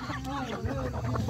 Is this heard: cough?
no